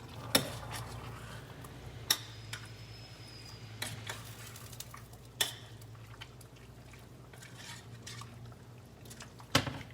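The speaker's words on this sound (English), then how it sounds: "Give it a nice mix." A spoon stirs short ribs with fresh mozzarella in a pan, giving sparse clinks and scrapes against the metal that are fairly quiet, with a low hum underneath.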